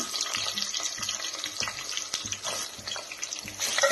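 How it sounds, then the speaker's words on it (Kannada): Chopped onions fry in hot oil for a hotel-style mushroom biryani, giving a steady, close crackling sizzle with scattered clicks of stirring throughout. "ಉಳ್ಳಾಗಡ್ಡಿನ ಚಲೋ ಫ್ರೈ ಮಾಡ್ಕೊಳ್ಳೋಣ"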